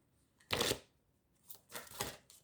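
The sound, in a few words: tarot cards being shuffled and drawn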